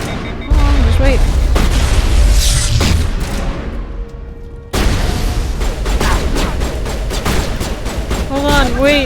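Loud, sustained gunfire and booming blasts from a Mass Effect combat scene, bursts of weapon fire in two long stretches with a short lull between, while a player talks over the action.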